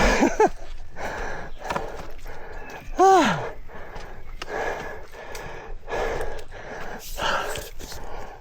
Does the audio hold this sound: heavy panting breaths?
yes